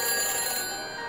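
A telephone ringing after a number is dialed in the Back to the Future video game, a steady electronic ring tone that fades slightly as it continues, heard alone.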